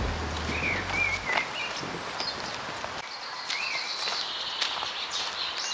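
Birds sing in a park beside a road, with thin chirps and short warbling phrases over a rustling background of footsteps walking along the path.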